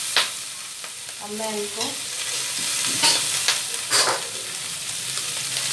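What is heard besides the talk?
tikka boti meat pieces roasting and sizzling on a griddle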